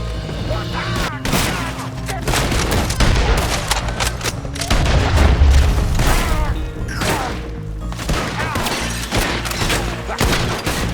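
A gunfight erupts in Red Dead Redemption 2, with dense rapid gunshots cracking nearby in irregular bursts, heavy booming impacts and brief pauses, with voices mixed in.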